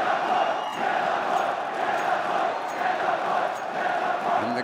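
A large crowd at an IEM Sydney CS:GO quarterfinal between mousesports and Renegades cheers in a steady, dense roar that fills the whole stretch without pause.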